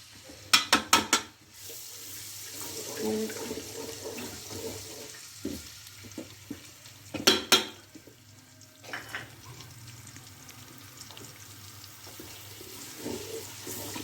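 Oil hisses and sizzles as garlic and ginger are dropped into a hot pan, with a few sharp clatters early on and softer stirring scrapes afterward.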